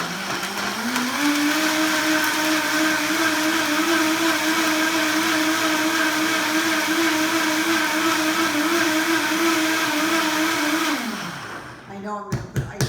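A countertop blender runs steadily for about eleven seconds mixing a spirulina superfood drink, a loud close whirring motor with a constant pitch that spins down at the end, followed by a few faint clunks.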